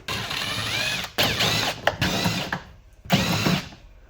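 Phillips screws being backed out of the rear hatch grab handles of a Ford Edge, with loud close mechanical whirring bursts from a driver, separated by short pauses and clicks, no speech.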